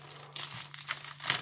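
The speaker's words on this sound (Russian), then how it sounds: "Вот такой пакетик. Сейчас мы его как-то раскроем и посмотрим, что внутри." A plastic packet of craft supplies is crinkled and pulled open close by, with several bursts of crisp rustling and crackling over a faint low hum.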